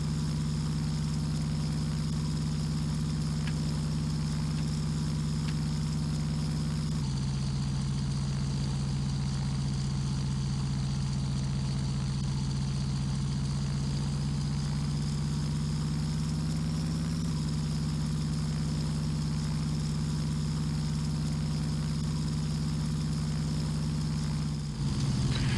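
A simulated airplane engine in flight in the GeoFS flight simulator game, holding a steady, loud droning hum without a break for the whole stretch, with a slight shift in tone partway through.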